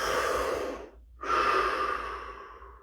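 A single deep breath, a long audible inhale followed after a short pause by a slow, full exhale, close and clear with no talking.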